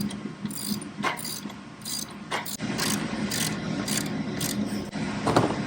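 Ratchet wrench tightening the pivot bolts on a Tilther Pro tiller assembly, with repeated clicking ratchet strokes and bursts of metallic turning heard up close, no talk.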